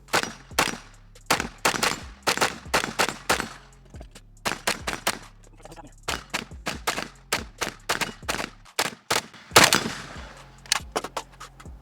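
Pioneer Arms 556 Sporter AK rifle fed from a PSA AK-101 magazine firing outdoors, a long string of sharp, loud shots in rapid uneven bursts with brief pauses between them.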